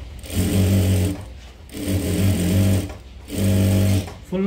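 A tailor's sewing machine stitches a paithani saree blouse in three loud, close bursts of rapid whirring, each lasting about a second, separated by short pauses.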